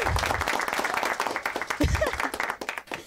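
Seminar audience at a leadership talk clapping close by in a brief round of applause that thins into scattered claps, with a voice speaking partway through.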